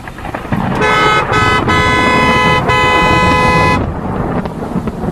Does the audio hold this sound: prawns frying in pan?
no